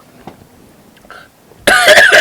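A single short throat-clearing cough from a person, faint and brief, followed by a louder burst of voiced sound at the end.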